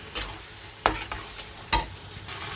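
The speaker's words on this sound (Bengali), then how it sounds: "এবার সুন্দর করে কষিয়ে নেওয়ার পালা।" Soybean and vegetable curry with sour curd is stir-fried in a pan under a low sizzle, punctuated by several crisp scrapes and taps of the spatula against the pan at uneven intervals, close up with no talking.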